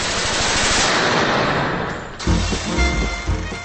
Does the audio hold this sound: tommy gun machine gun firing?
yes